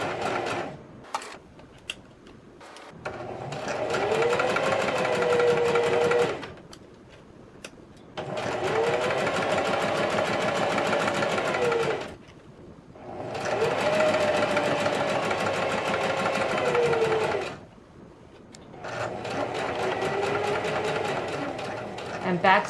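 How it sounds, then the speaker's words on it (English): A sewing machine runs a straight stitch down fabric for a 3D octagon origami face mask in four sustained bursts of steady motor whirring, separated by short pauses with faint handling noise. "On the first side, you're going to do a straight stitch all the way down at 3/8 of an inch."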